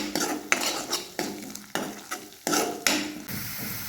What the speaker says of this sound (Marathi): ह्याला पण छान असं 1 मिनिट परतून घ्यायचे